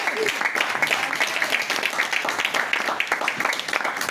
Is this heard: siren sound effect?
no